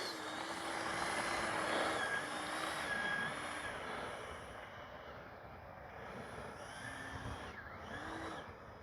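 The motor of a Freewing F-16 70mm electric ducted-fan RC jet model runs steadily, with a whine that rises and falls as the throttle shifts. It stays loud and close throughout, with no talking.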